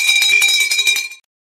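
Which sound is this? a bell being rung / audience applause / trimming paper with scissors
a bell being rung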